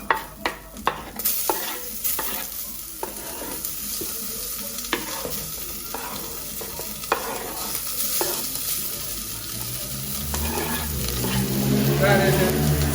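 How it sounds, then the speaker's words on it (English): Seasonings sautéing in a pot for jerk stew, with a crackling sizzle and repeated sharp knocks and scrapes of a spoon against the pot, the frying swelling louder toward the end; a voice speaks faintly underneath. "take all my seasonings to the pot for a saute"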